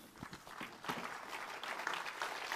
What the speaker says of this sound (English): Give a round of applause for Bijan.